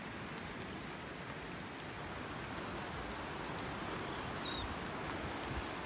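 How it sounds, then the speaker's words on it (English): Rain falls steadily on a beach in North Naples during Tropical Storm Gordon, a soft, even hiss of drops with a faint wash of surf beneath, quiet and constant with no talking. "It is raining."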